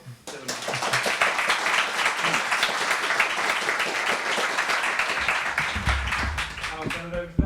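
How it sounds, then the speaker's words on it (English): An audience at a talk on prediction markets in journalism applauds for a speaker, a lively round of clapping that rises quickly, holds for several seconds and tapers off as a voice and some handling noise come in near the end. "So again, a lovely round of applause for Dylan."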